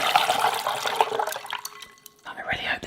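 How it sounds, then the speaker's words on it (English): Tap water splashes and trickles over sliced potatoes in a kitchen, loud at first then thinning to drips, with a person talking over it. "I should just run this under the tap, but just for pure ASMR too"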